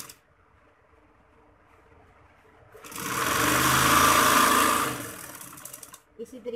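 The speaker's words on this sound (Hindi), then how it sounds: "इसी तरीके से हम दूसरे बाजू को सिलाई लगाएंगे।" A sewing machine stitches the sleeve and lining of a bridal tail maxi dress, running in one steady whirring burst of about two seconds after a quiet start, with faint clicks following as it stops.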